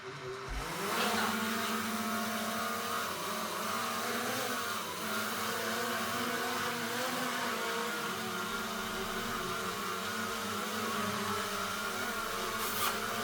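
DJI Mini 4 Pro drone flying after a repair, a steady high buzzing whine of small propellers that holds throughout with slight pitch shifts, fairly faint and alone.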